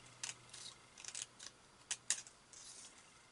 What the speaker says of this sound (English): Very easy to do with your scissors. Just snip that away.